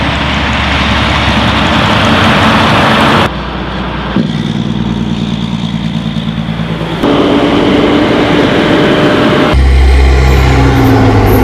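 Heavy trucks roar past a home, loud and close, with a continuous engine rumble and abrupt changes in tone as different vehicles go by, and no voices.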